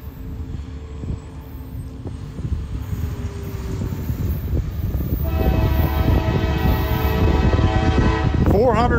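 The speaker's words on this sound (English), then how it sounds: "We got a coal train coming, loaded coal train." Loaded coal train C887, running from Corbin, Kentucky to Curtis, Indiana, rolls past close by with a heavy rumble that builds steadily. Partway through, a loud sustained horn joins in, and it bends in pitch near the end.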